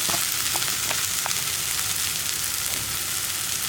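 Spinach for a cheera parippu curry is sautéed in a hot pan, giving a dense, even frying hiss with a few faint stirring clicks near the start and no voices.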